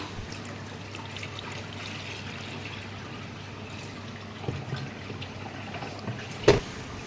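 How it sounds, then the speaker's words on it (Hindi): Water trickling and pouring steadily into an air cooler's tank, with a low background hum and a sharp knock near the end. "चलो कूलर में पानी भर लूँ।"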